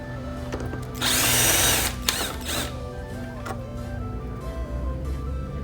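Power tool spinning out an 8mm bolt from the intake box of a 2012 Dodge Charger: a loud, brief high-pitched whir, a metallic clack, then quieter ratcheting and rattling nearby.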